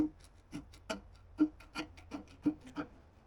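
A metal downpipe end being trimmed about 5 mm and deburred, giving a series of short, evenly spaced rasping scrapes, roughly ten strokes at a steady rhythm, close and moderately loud with no talking.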